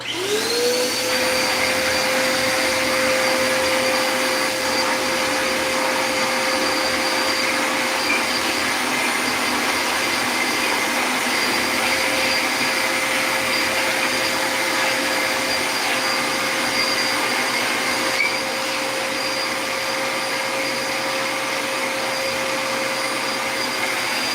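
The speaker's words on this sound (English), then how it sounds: "I'm getting ready to turn the vacuum on for about 30 seconds." A vacuum cleaner runs indoors at a stained-glass workbench, starting with a rising whine and then holding a loud, steady roar with a constant high tone for about twenty-four seconds, close to the microphone and without talking.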